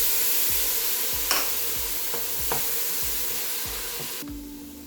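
Browned onions frying with spices and tomato in a pan make a steady close hiss, broken by regular rhythmic scrapes and stirs of a spoon, with no talking.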